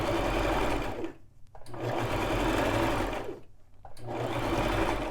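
A Brother LX3817 sewing machine runs a knit blind hem stitch in three steady bursts of motor hum and needle clatter, each pausing briefly before restarting, close and fairly loud.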